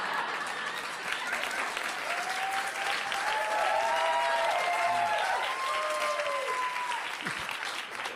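Comedy club audience applauding after a stand-up joke, a sustained wash of clapping from a packed room, with whistles and cheers rising over it before it fades.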